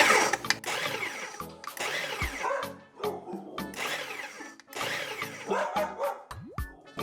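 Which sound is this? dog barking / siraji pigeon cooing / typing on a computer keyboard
dog barking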